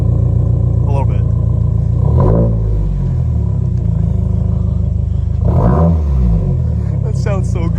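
A 2024 Subaru WRX fitted with a Remark axle-back exhaust idles loudly up close with a deep rumble, then blips its throttle twice into sharp, rising revs before settling back to idle.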